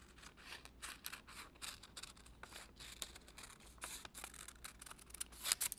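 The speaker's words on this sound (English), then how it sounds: "What I'm going to do next is take my visor pattern and cut it out." Scissors snip through a paper visor pattern for a doll's duct tape visor, giving a quiet, steady series of short crisp cuts with a faint rustle of paper between them and no talking.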